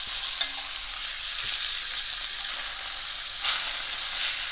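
Beef cheek pieces sear in a pot for carbonnade flamande, giving a steady broadband sizzle with a brief louder burst of frying near the end, no voices.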